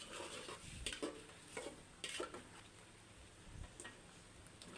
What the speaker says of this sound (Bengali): আমি মাছটাকেও কষিয়ে নিব